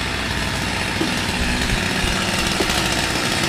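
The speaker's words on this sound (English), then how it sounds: "I love a good chainsaw." Petrol chainsaw cutting wood while a tree house is taken down, a loud steady close-up buzzing whine throughout, with no voices.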